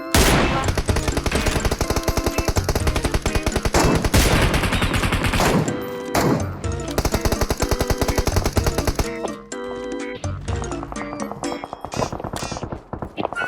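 Dense, loud automatic gunfire from PUBG Mobile, rapid machine-gun bursts rattling almost continuously with brief gaps and shifting intensity, no talking over it.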